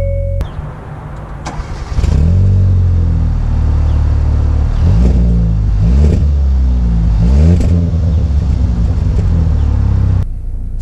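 A 2019 Hyundai Veloster Turbo engine starts and settles into a deep idle, then revs repeatedly in rising surges, close and loud, before cutting off.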